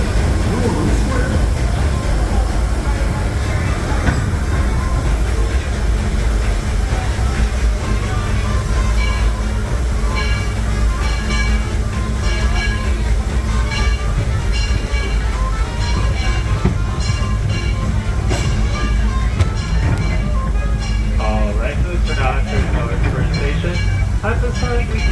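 Disneyland Railroad train rolling along in the rain, a loud continuous rumble with rhythmic wheel clatter and hiss, while people talk faintly in the background.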